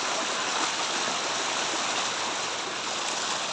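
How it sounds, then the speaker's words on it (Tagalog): Rushing floodwater after a typhoon roaring steadily across a road, a dense continuous torrent close by with no break and no voices. "malakas ang agos."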